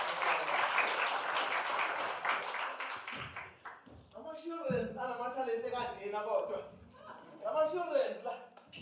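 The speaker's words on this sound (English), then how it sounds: "A round of applause for Dr." At a slam poetry competition, an audience claps in a burst of applause for several seconds, then it fades as a voice talks over the room.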